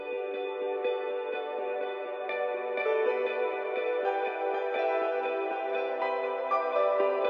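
A lush, sustained Spire synthesizer pad (Blue Water patch) swells with layered harmonic tones while faint rhythmic plucks pulse steadily underneath, no voices present.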